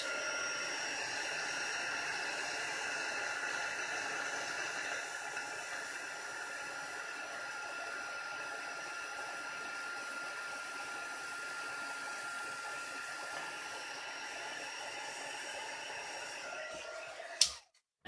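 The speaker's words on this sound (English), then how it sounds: "So, heated up my heat tool" An embossing heat gun blowing steadily, a constant airy whoosh at even loudness for about seventeen seconds, then a click as it switches off.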